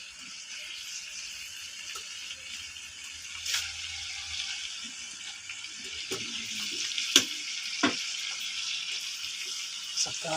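Prawns and pork embutido frying in a pan, a soft steady sizzle at moderate distance with occasional sharper pops and clinks of utensils, fairly quiet throughout.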